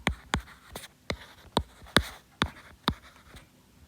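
Pen or marker strokes tapping and scraping on a board while a math sequence is written out by hand, about eight short sharp strokes in an irregular rhythm, close and clear with no talking.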